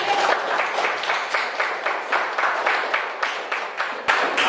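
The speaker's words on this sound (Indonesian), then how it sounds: "Tepuk tangan buat Ibu Riri." Students in an Indonesian classroom applaud a teacher after an explanation of the Jayangrana dance, clapping in quick, fairly rhythmic bursts from a small group nearby, with a sharp louder clap near the end.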